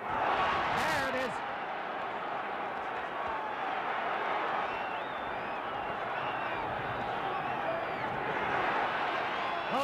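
A crowd roars steadily at the 1970 Muhammad Ali versus Oscar Bonavena boxing match, a sustained arena-wide din of cheering under a commentator's voice.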